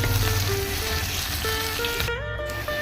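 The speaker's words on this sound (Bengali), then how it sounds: "পেঁয়াজটা একটু ভালো করে ভেজে নেব।" Onions fry in oil left over from frying fish, a dense steady sizzle and crackle close up, with faint tonal background hum and no talking.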